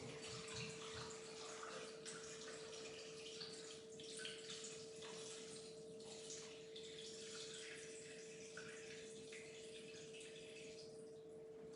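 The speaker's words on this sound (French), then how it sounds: "Puis là, on va rajouter 500 g d'eau." Water pours into a food mixer bowl for a recipe, a steady continuous splashing stream under a constant mechanical hum, with no talking.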